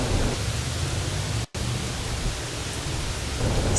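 Steady rain falls over the Cypress Wetlands rookery in Port Royal, South Carolina, a broad continuous hiss with a low rumble and one brief dropout partway through, with no voices.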